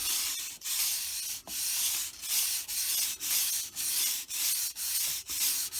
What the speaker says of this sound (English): Do I have enough time to do a quick sand?